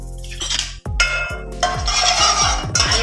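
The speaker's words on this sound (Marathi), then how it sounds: "आणि ते हलवून घ्यायचं" Curry leaves for an eel fish curry are stirred in a pan, with repeated metallic clinks and scrapes of a spoon against the pan over a bright frying hiss.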